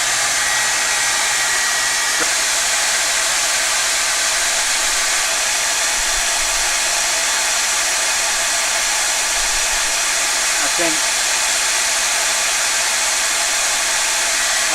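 Hair dryer drying paint on a miniature sea turtle painted on a playing card: a steady, continuous blowing whir held at even loudness for about fifteen seconds, with no talking.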